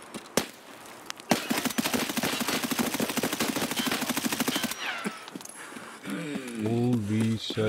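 Rapid automatic gunfire in Escape From Tarkov, a fast steady stream of sharp shots lasting several seconds, followed by a voice talking.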